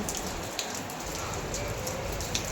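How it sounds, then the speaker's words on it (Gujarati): Heavy rain pours down in a dense, steady hiss with scattered drips and splashes, fairly faint and continuous from start to finish. "પાછો ફૂલ જોરદાર વરસાદ ચાલુ થઈ ગયો છે"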